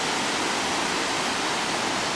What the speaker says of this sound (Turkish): suların dökülme şiddeti o kadar fazla ki aşağıda inilen basamaklar ıslak ve kaygan